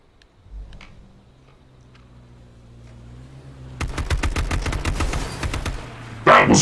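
AK rifle gunfire in a video game: a fast, evenly spaced stream of loud, sharp shots starts after a quiet low hum and runs for about two and a half seconds, ending in a heavier crack.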